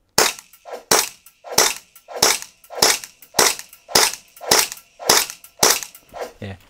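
Ten shots are fired at a Gunpower 24-inch smart target indoors, sharp, loud cracks in an even rhythm about two-thirds of a second apart, close by and with no talk.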